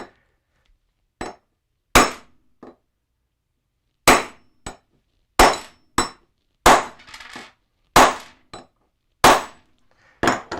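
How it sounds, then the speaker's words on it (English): A hammer strikes a crimp lug onto a power cable for a field charging rig, about eight sharp metallic whacks spaced irregularly with silent gaps between them, close and loud, with a ringing clang on each blow. "Four or five whacks at it. That's our cable now."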